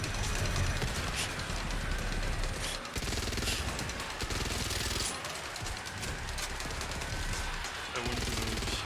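Continuous dense gunfire from shooting enemies in the video game Back 4 Blood, loud and sustained with bursts and overlapping shots, voices faintly underneath.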